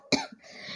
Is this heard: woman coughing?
yes